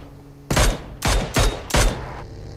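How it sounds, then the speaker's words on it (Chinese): Rapid semi-automatic rifle fire from a Mini-14 in a battle royale video game: four loud, close bursts of shots in quick succession over faint background hum, no talking. "野桃直接 mini 速点导师倒地"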